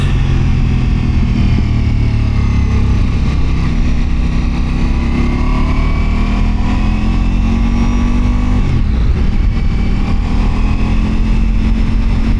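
Motorcycle engine droning steadily while riding a twisty road, a constant loud hum with wind rush and shifting pitch as the revs rise and fall, with no talking.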